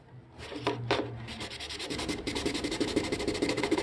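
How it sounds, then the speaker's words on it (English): Razor blade scraping scratches out of a carbon fiber surface, a close rasping sound made of two separate strokes and then a rapid run of repeated short scrapes that grows louder. "you can use this razor blade"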